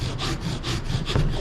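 A coarse file rasps along a hand-carved wooden wand in quick, rhythmic back-and-forth strokes, close up and scratchy, about five passes in a short burst.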